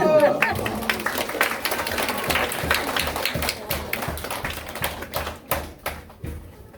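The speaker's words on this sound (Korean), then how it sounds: "박수!" A high-school church congregation clapping for a birthday, a loose burst of many hands that thins into scattered, rhythmic claps and fades toward the end, with a voice speaking over the start.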